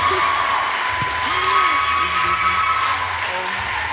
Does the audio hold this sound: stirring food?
no